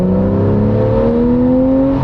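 A Porsche 991.1 Carrera S engine with X51 Power Pack revs with a steady rising whine, its harmonic drone climbing slightly in pitch over a couple of seconds, loud and close.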